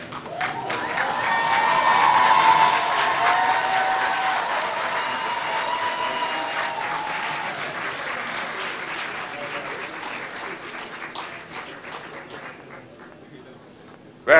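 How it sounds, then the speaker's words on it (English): Graduation ceremony audience applause, a large crowd clapping loudly with some cheering, swelling early then slowly thinning over about fourteen seconds before ending. "give them a really loud round of applause"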